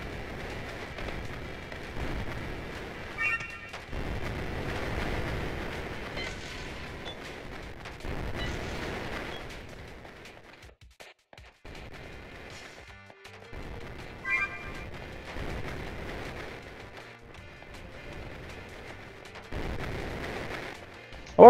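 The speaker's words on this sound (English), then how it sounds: "this is a first-person game of grenades" Explosions and blasts from a first-person video game of grenades burst at irregular intervals, some loud and booming, others softer, with gaps of quieter game ambience between them.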